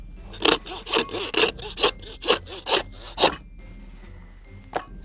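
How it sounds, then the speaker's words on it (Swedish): Hand saw cutting through wild boar ribs at the end of the chop to leave long ribs, with about eight rhythmic rasping back-and-forth strokes, close and loud, then a pause and one last faint stroke. "Och sen sågar vi där. Så får vi så långa revben som möjligt."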